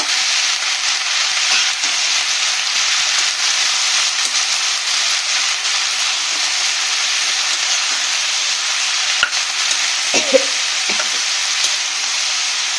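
Turmeric powder being stirred into vegetables frying in a pan, with a steady loud sizzle throughout and a few soft scrapes of the spoon near the end.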